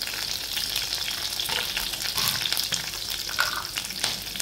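Chilies sauté in hot oil with garlic-ginger paste, giving a steady, close sizzle and crackle with a few stirring scrapes throughout and no one speaking.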